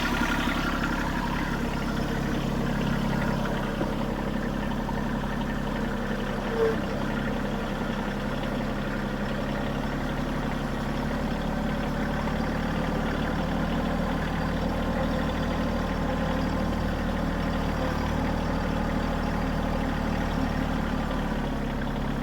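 A Bad Boy tractor runs steadily in low gear while moving logs, its engine giving a continuous, fairly loud drone with little change in pitch throughout and no talking.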